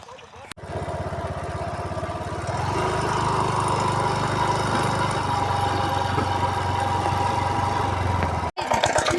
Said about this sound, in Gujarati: અહીંયા કેનલ ચાલુ છે અને મશીન ચાલુ છે